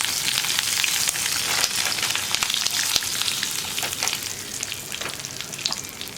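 Sambar powder frying in a pan with curry leaves over a low flame for a brinjal sambar: a steady, close sizzle with faint stirring scrapes and no talk.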